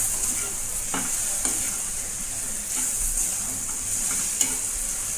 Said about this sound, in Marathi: बघा आता तेलामध्ये तिखट मिक्स करून घेते भेंडीमध्ये